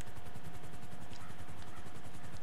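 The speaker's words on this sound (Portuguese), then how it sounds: "Vamos subir de helicóptero ali," Helicopter rotor in the video game GTA Online, a steady rapid thumping chop held at a constant, fairly faint level throughout.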